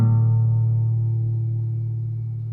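Takamine F-340 acoustic guitar with old, worn strings rings out as a single strummed chord, a warm sustained tone that slowly decays without talk over it.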